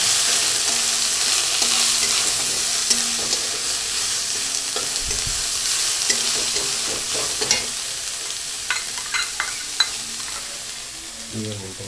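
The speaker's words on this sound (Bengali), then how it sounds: "এখন আমি দিয়ে দেবো এই তেলের উপরেই জিরে তেজপাতাটা একটু নেড়ে নিই" Cumin seeds and bay leaf frying in hot oil while being stirred, a loud continuous sizzle with scraping and clinking of a spoon against the pan, close up, intensifying toward the end.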